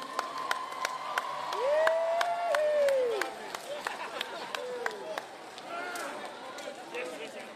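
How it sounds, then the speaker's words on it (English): Scattered applause from an outdoor festival entertainment stage audience rises and fades, with a whoop of cheering in the middle and a few claps trailing off at the end. "how about a huge round of applause for our volunteers?"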